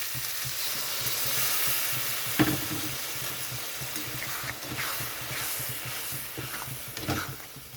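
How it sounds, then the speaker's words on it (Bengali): Fish masala (tangra jhal) frying in a pan as a little water is added, giving a steady close sizzle and hiss broken by scraping stirs and a few sharper spatters. "এখানে আরও একটু জল দিয়ে দিচ্ছি।"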